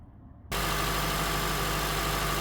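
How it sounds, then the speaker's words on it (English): A 2009-2014 Acura TSX engine fitted with a cold air intake starts abruptly and settles into a loud, steady idle, a constant close rumble with an even hum and no voices. "All right, the engine is started."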